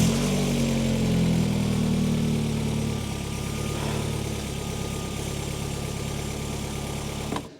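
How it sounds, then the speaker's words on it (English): A Vauxhall Astra VXR engine with a newly fitted Pegasus inlet manifold runs loud and close, starting with a strong rumble that settles into a steady idle, then cuts off abruptly. "as you saw, the car started"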